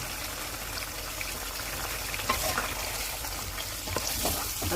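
Chicken frying with coriander, garam masala, white cumin, crushed red chilli, turmeric and red chilli powder in a karahi for tandoori chicken karahi, a steady close sizzle with occasional stirring scrapes and no voices.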